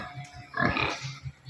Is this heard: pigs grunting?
yes